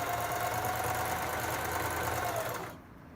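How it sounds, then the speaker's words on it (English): A sewing machine runs continuously, chain-sewing a line of booties without stopping, a steady mechanical whir with a faint rhythmic knock that stops abruptly near the end, leaving quiet. "sew them all in a line such as this. So you're sewing, and you're not stopping in the middle"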